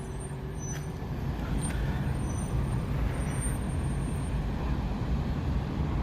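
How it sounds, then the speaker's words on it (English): A tow truck pulls up at a road collision scene, its diesel engine rumbling low and heavy while air brakes hiss and release with short bursts, fairly close amid road noise. "Here comes the tow truck."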